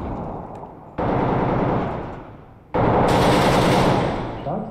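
Heavy automatic gunfire in the Six Days in Fallujah video game, a dense rattling burst that pauses for a second, then a longer, louder sustained barrage close by with no talk over it.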